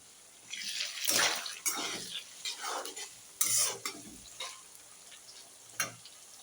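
Chopped tomatoes going into a pan of onions over a high flame for chicken patiala, with spatula stirring scrapes and bursts of sizzling in irregular strokes, moderately faint, no talking.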